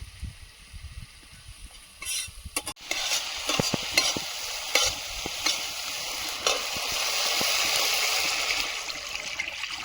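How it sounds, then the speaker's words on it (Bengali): Water goes into a pan of pointed gourd curry frying in oil, and the hiss rises to a loud, steady sizzle over stirring scrapes and a few clatters. "এবার জল দিয়ে দেব"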